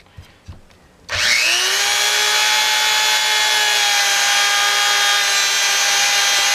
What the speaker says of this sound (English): Since I already have this one on the Dremel tool, let's see how this plays out. We're on speed 4.